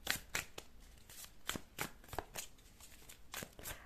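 Tarot cards shuffled by hand, a run of quick crisp riffles and flutters repeating at an even pace, close and fairly quiet with no voice over them.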